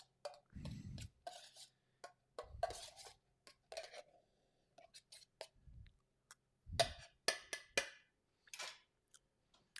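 Utensil clinks and scrapes as warm quinoa is mixed with seasoning in a bowl, in short bursts separated by pauses, with occasional low knocks.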